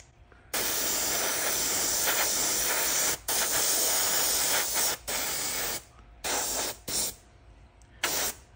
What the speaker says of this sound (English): I'll actually even spray it over the webbing